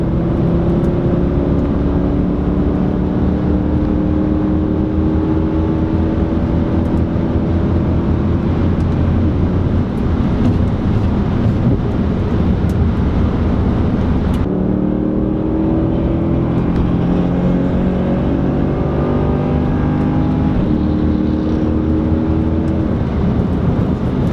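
Mercedes C63 AMG driven hard on a public road, a loud continuous engine roar heard from inside the car, rising through the gears with a brief drop at a shift partway through before climbing again.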